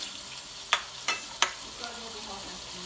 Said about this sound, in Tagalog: Kung saan ko ginigisa